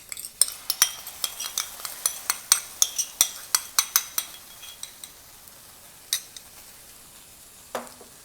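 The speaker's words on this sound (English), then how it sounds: "Now I'm going to add some tomato puree to it." Tomato puree stirred into browned onions in a pan for rajma masala: a regular run of sharp spoon clinks and scrapes against the pan over a soft sizzle, thinning out toward the end.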